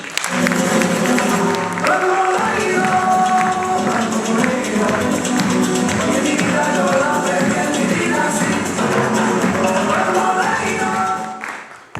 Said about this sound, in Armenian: ծափահարեք մեր Աննային